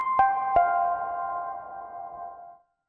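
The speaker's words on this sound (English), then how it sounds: "This is just a nice big reverb." Two plucked electric guitar notes run through a big reverb pedal setting, ringing out into a long smooth tail that fades over about two seconds.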